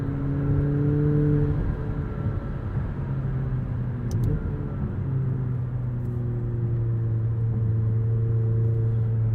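McLaren P1 hybrid hypercar cruising from inside, a steady deep engine drone with a smooth low hum that shifts pitch slightly once midway, continuous and moderately loud, with no talking.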